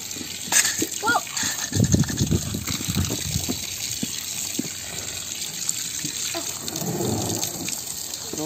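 Water from a tap gushes steadily into a backyard garden pond, a close, continuous splashing flow. People talk and exclaim over it, and the flow grows louder toward the end.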